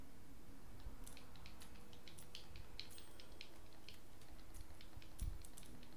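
Rapid, uneven clacking of typewriter keys in the video game Dishonored 2, close and steady over a low ambient hum, with no talking.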